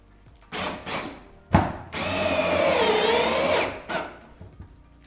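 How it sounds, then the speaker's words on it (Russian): A power drill bores into an old creaking wooden floor and then drives a self-tapping screw during a budget apartment renovation: short bursts of drilling, a thump, then a sustained whining screw run, all close and loud. "Засверливаемся. И вкручиваем саморез."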